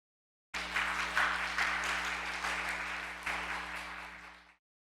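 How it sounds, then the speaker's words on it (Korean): Church congregation applauding a member at a worship service, a sustained burst of clapping lasting about four seconds with a few louder surges, fairly close, with a steady hum underneath. "예, 박수."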